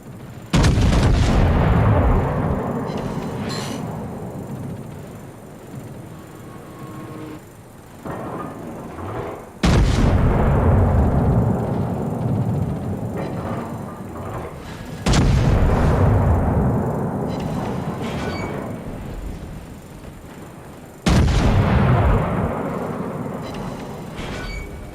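Battleship main guns firing in World of Warships, four heavy booming salvos spaced several seconds apart, each blast followed by a long rumbling decay.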